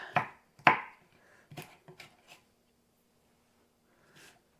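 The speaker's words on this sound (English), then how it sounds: "get our onions diced up" A knife dices onions on a cutting board, a few sharp, close chops spaced irregularly, then quieter taps and a pause, with no talk.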